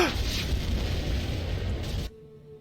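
A missile strikes a spaceship in the space combat game Freelancer, giving a loud, sustained rumbling blast that holds for about two seconds and then cuts off sharply, leaving quiet electronic hum behind.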